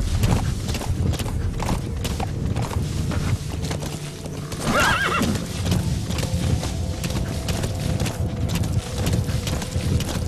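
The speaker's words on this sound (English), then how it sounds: "Horse has never been stable in video games." A horse's hooves clip-clop steadily in the video game Metal Gear Solid V while a whinny rises midway, all against a dense, busy background.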